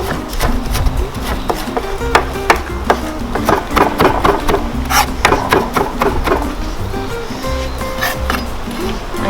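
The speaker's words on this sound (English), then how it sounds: "I'll chop it finely." Cabbage chopped finely with a knife on a board for shredded pickled cabbage, a steady run of close, sharp chopping taps throughout, with no talk.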